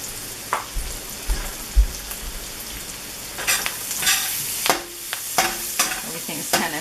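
Tofu frying for curry in a hot pan over a high flame, sizzling and crackling steadily with scattered sharp pops and bursts of stirring, close up with no voices.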